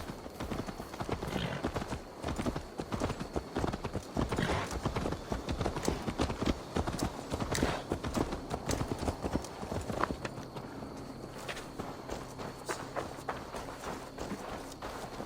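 A horse's hooves clip-clop in Assassin's Creed Valhalla, a steady run of close, crisp hoofbeats with an occasional whinny, easing to a quieter walking pace near the end.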